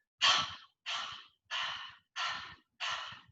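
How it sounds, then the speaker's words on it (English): Breath of fire yoga breathing: five forceful, loud exhales through an open mouth in an even rhythm, like a dog panting, each about half a second long with silent gaps between them. "So in breath of fire, as you exhale, you're breathing out through the nose, the navel draws in."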